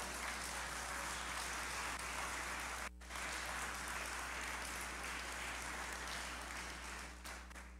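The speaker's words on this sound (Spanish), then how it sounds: "Si lo crees, dale un aplauso a Dios, por favor." A church congregation applauds, a broad, even wash of clapping that holds steady with one brief dip partway through, over a constant low hum.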